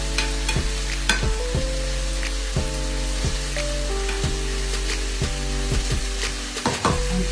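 Vegetables for cornbread dressing softening in a hot pan, frying with a constant sizzle while a utensil clacks and scrapes against the pan in repeated strokes, close and alone.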